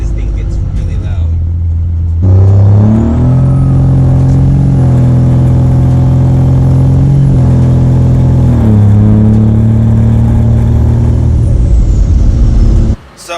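A 12-valve Cummins diesel truck with a 4-inch straight-pipe exhaust drones loudly and up close, its deep rumble stepping up in pitch as the revs climb, holding, then easing back before cutting off abruptly.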